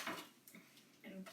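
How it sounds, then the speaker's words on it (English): Metal tongs grip a rack of ribs beside a Traeger smoker, giving a few quick, soft clinks and scrapes in a brief, quiet moment. "Okay, now the rib. We're gonna pick it up with the tongs"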